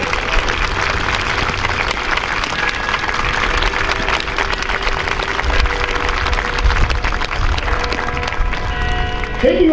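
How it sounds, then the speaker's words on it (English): An audience at a Canadian Army change of command ceremony in Ottawa applauds three Canadian veterans, a sustained, full roar of clapping that stays loud and even for about ten seconds. "Ladies and gentlemen, please join me in a round of applause for three Canadian heroes who truly stand out today."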